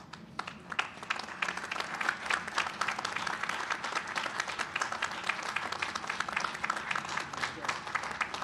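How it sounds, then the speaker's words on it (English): Sustained applause from an audience standing at a spring commencement morning ceremony, steady dense clapping filling the hall at fairly close range for the whole stretch, with no voices over it. "Please stand and give them a round of applause."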